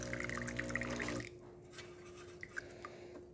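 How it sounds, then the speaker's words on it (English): Hot water from a Saeco espresso machine pours steadily into a cup for about a second, then stops, leaving a quiet hum and a few faint drips. "starting with a little bit of hot water so we can clean our cup, get up temperature as well"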